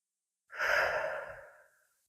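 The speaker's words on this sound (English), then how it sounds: "you're going to try breathe nice and low into your belly" A single deep, slow breath, drawn low into the belly during a Pilates core exercise, swells close and soft, then fades out over about a second.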